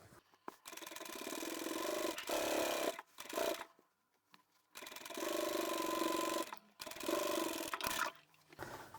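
A sewing machine stitches a scrap-fabric tablet pouch through bulky folded layers in several steady bursts, each run a few seconds long with brief pauses between them.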